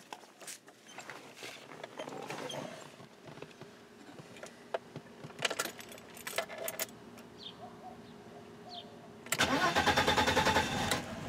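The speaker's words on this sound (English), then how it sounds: "Now it's time to turn the engine on" Faint jingling and clicks, then a BMW E30 engine cranks and catches, settling into a loud steady idle near the end.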